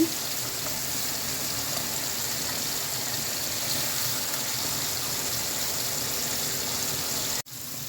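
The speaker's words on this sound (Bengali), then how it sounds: "ডিমগুলো এখন উল্টিয়ে দিচ্ছি" Poached eggs sizzle and fry steadily in a pan, a continuous even hiss throughout, ending with a brief clatter as they are flipped.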